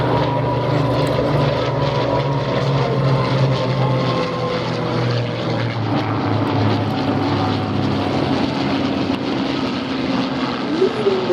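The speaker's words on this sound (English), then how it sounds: "A bit of dogfighting now as we start seeing the P-51s chasing the Bouchon." P-51 Mustang propeller fighters dogfighting at an airshow, a continuous loud droning engine roar that rises and shifts in pitch as the planes pass, heard from the crowd line.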